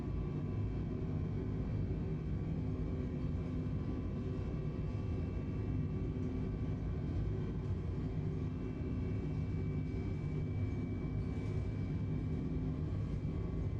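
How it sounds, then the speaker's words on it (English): An airliner rolls down the runway at takeoff thrust in Microsoft Flight Simulator 2020, a constant loud engine roar and rumble with no break. "Takeoff thrust is set. Auto throttle armed."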